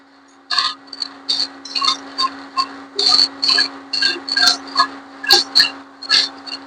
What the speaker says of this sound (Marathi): कढईमध्ये मी शेंगदाणे घालून घेते